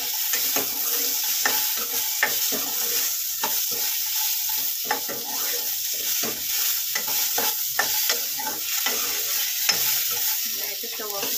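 Bitter gourd chutney ingredients sizzle in hot oil in a pan, a steady close frying hiss punctuated by repeated scraping clicks of a spatula stirring, with no talking.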